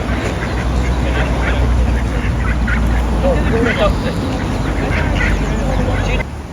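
Ducks quack intermittently in an outdoor setting near a road, several calls scattered over steady low background rumble, with people talking over them.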